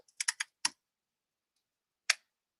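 Typing on a computer keyboard: a quick burst of three crisp key clicks, one more a moment later, then a single isolated tap after a pause, close and fairly quiet in an otherwise silent room.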